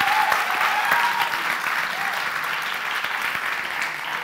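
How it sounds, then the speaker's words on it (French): An audience applauds Bastien at a youth event, a dense, steady wash of clapping that starts strong and holds at an even level to the end, with no voices rising above it. "on peut applaudir Bastien"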